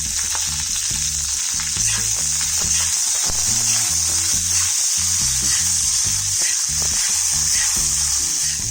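Cashews, onion petals and green capsicum fry in a pan for dragon paneer, giving a steady, bright sizzle with occasional stirring clatter over soft background music.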